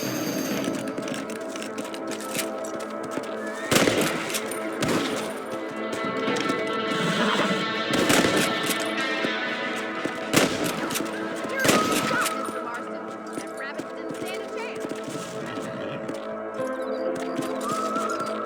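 Rifle gunfire in Red Dead Redemption on PC: several sharp shots ring out at intervals, near 4, 8, 10.5 and 12 seconds, over a busy game soundscape of ambience and music with some voices.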